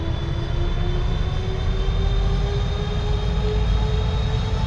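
Airliner engines in a flight simulator spool up for takeoff, a steady loud jet whine with a slowly rising tone over a deep rumble, continuous and without talk.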